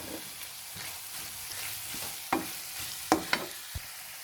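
Chopped green chillies sizzle in hot oil while a spoon stirs them, with a few sharp scraping clicks against the pan over a steady frying hiss; no voices.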